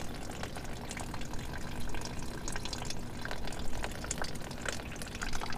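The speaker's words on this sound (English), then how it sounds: "we'll drain it into this bucket here, this bin" Coolant water draining steadily from a car engine into a bucket while prepping an El Camino, a continuous splashing, trickling stream heard close and steady throughout, with no talking over it.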